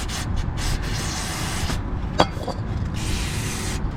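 Lubricant sprayed from an aerosol can onto a car's sway bar link during chassis lubrication, heard as close hissing bursts with a brief sharp knock partway through and no talking.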